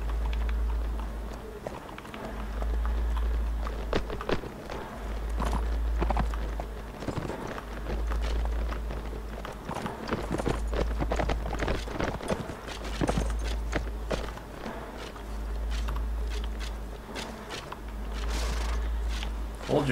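Cavalry horses in Mount & Blade: Warband, a dense clatter of hooves and footfalls in pulsing bursts over a low rhythmic rumble, with voices talking over the game sounds throughout.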